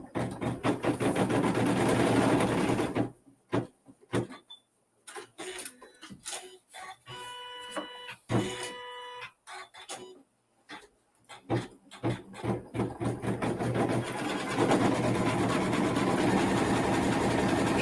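A computerized embroidery machine stitches out a Jack O'Lantern design, giving a steady mechanical clatter with rapid rhythmic needle pulses and short pauses, fairly close and moderately loud, with brief tonal beeps in the middle and no talking.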